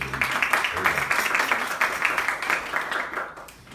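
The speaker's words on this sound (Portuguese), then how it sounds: "Peço uma salva de palmas." Audience applause at a round-table panel on online psychological care, a steady wash of clapping from many hands that fades slightly toward the end.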